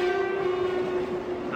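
A Paris-bound Eurostar train at a station gives off a steady, sustained tonal hum or horn-like drone, close and unbroken throughout.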